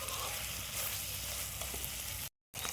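Mutton masala cooks in an iron wok over a wood-fired stove, sizzling steadily and closely, broken by a brief moment of silence before the frying resumes.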